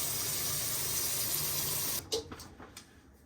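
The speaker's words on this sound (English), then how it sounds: "open the hot side on the sink and just let it run" Hot water pours steadily from a sink faucet with a constant hiss, then cuts off abruptly, leaving a few faint drips and clinks.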